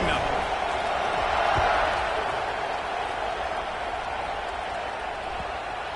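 A large football stadium crowd roars steadily at kickoff of an Ole Miss game, a dense, loud wash of cheering that holds across the whole stretch and eases only slightly toward the end.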